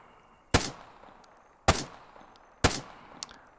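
Three single gunshots from a rifle in the Arma 3 video game, each a sharp loud crack with a short decaying tail, spaced roughly a second apart, with no voices.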